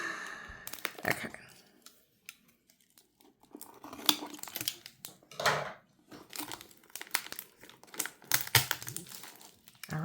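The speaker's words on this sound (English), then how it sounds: "So we'll use scissors today." Scissors snip and saw through twine on a shipping package, with crinkling packaging, rustles and small clicks coming in uneven bursts close up and at low volume.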